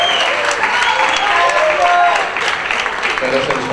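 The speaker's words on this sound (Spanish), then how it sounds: "Un aplauso muy fuerte." An audience at a campus festival applauds in a dense, loud, continuous wash of clapping for a few seconds, with cheering voices mixed in.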